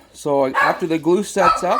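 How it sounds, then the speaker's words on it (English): A dog barks a few short times in a home workshop during a cabinet hinge repair, the barks mixed in with someone talking close to the microphone. "pardon the dog's barks"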